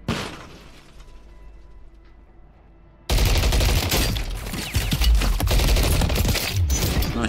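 Gunfire in a first-person shooter game, quiet at first, then sudden loud sustained automatic fire with sharp cracks and rattling bursts continuing to the end.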